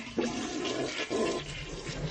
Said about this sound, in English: turning off the water supply valve, and flushing the toilet.